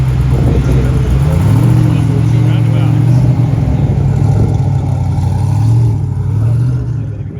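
A Lamborghini 5.2-litre V10 idles with a deep, steady rumble after starting, its pitch rising and dipping slightly in a couple of light blips, at a car show.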